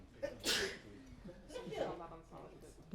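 A single sneeze bursts out sharply in a church gathering, loud and close, followed by low murmuring voices and quiet room sounds.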